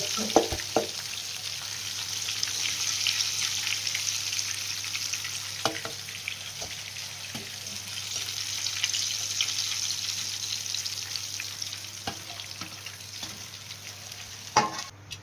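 Coated KFC-style broasted chicken deep-fries in oil with a constant bubbling sizzle, close and steady, broken by a few sharp utensil clicks; no voices.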